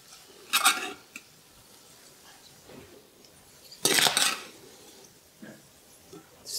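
Cutlery clinks against a plate as beans are spooned into its centre, two louder clattering bursts separated by quiet pauses and a few faint taps, close by.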